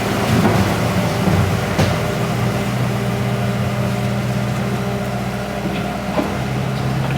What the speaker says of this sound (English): Dad is on the skid loader scooping up all of these rocks